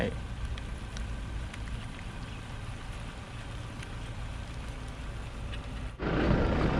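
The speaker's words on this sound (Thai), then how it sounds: "ฝนตกหนักแล้ว" Heavy rain falls outdoors at a street fishing spot in Thailand, a constant broad hiss of drops that suddenly swells louder and closer near the end.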